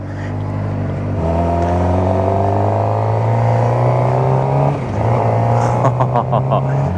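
A supersport motorbike's engine drones steadily while riding on a city street, holding a strong low hum that shifts pitch slightly midway, with wind noise and a brief rougher patch near the end.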